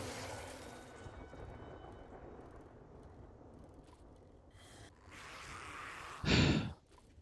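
Storm in the 7 Days to Die video game: steady rain-like hiss with low rumbling that builds toward a sudden loud gusting thunderous burst near the end, then drops off, with no talking.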